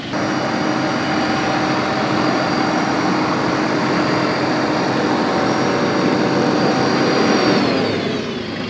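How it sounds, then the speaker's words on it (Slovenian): An AGT 1060 tractor engine drones steadily and loudly while the tractor drives over a rough slope, holding a constant tone before easing off at the end. "Zdaj bo majster probal čez tale ropitet, da se pokaže, koliko se traktor zvom."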